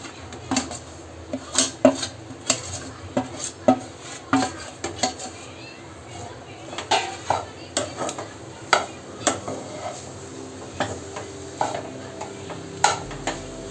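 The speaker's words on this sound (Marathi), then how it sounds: "आता खोबरं परतवून झालेलं आहे दोन मिनटं आता आपण हा गूळ ॲड करूया" Grated coconut and chopped jaggery stirred in a pan over low heat for traditional Maharashtrian patolya, a spoon scraping and knocking the pan in a steady rhythm of sharp strokes over a soft sizzle.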